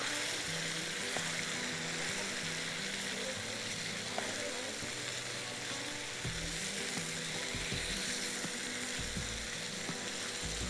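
Sliced tomatoes fry with minced meat for qeema aalu in a pan, a soft continuous sizzle with faint stirring clicks and low kitchen background, fairly quiet.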